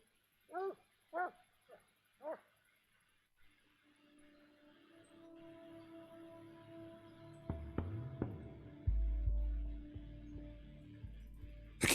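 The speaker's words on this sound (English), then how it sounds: "Oh, this dog's just going to keep barking the whole way out." A dog in a hunting video game barks several times in a quick burst near the start, then quiets while ambient game sounds and music build up underneath, with a louder clatter near the end.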